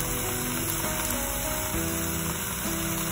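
Garlic sizzles in a frying pan over medium heat, making a steady, close, continuous crackle and hiss with no break, and no voice can be heard.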